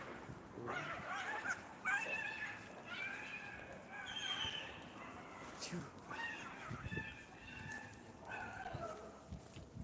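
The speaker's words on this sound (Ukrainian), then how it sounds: "Собаки, мабуть." Dogs bark and yip repeatedly in the distance, fairly faint, with outdoor background noise and occasional voices.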